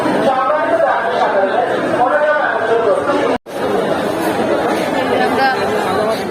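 Dense chatter of many overlapping voices at a packed railway station, with people crowding to board a train heading toward Cox's Bazar; steady and loud throughout, with one brief drop to near silence midway.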